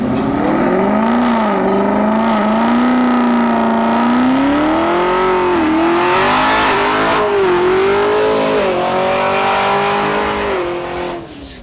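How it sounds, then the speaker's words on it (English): A Chevrolet Camaro ZL1 and an Audi RS5 accelerate hard side by side in a drag race, engines roaring loud and close with rising pitch through several gear changes before the sound tails off at the end. "Next, we have Jorge Tamayo in his Chevrolet Camaro ZL1 versus Andres Bustamante in his Audi RS5."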